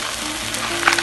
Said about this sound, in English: you move it around. You saute it